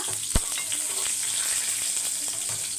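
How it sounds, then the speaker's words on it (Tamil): Curry leaves and green chilies frying in hot oil in a pan make a steady, loud, bright hiss with crackles, plus one sharp knock near the start. "கருவேப்பிலை இப்போ பொறிஞ்சு வந்தோடனே ரெண்டு பச்சை மிளகா"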